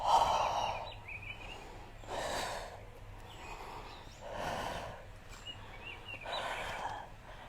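Slow, forceful exhalations during a Modo yoga class, four long breathy bursts spaced a couple of seconds apart, close and fairly quiet with no talking.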